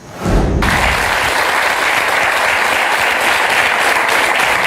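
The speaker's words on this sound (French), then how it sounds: "Ce sont des applaudissements d'encouragement" An audience at a French talk show breaks into loud encouraging applause, a sudden start followed by a sustained, even roar of many clapping hands with no speech over it.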